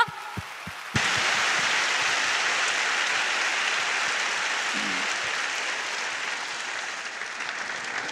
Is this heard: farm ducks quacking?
no